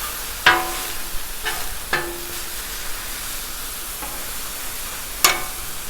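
Chicken for tacos sizzles on a 36-inch Blackstone griddle with a steady background hiss, broken by several sharp metallic scrapes and taps of a spatula on the flat top.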